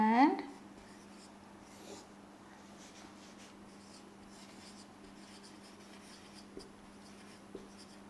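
A marker scratches across a board during an English grammar lesson, with faint, light strokes repeating at a low level near a quiet room hum and no clear talk.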